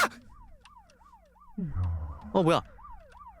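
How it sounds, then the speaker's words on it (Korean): A wailing police-style siren cycles up and down repeatedly, with game sound effects and a short spoken exclamation interrupting midway. "경찰차."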